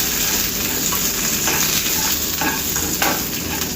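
Urad dal, dried red chillies, mustard seeds and cumin frying in oil over a medium flame: a steady, close, bright sizzle with a few soft stirring scrapes, no voices.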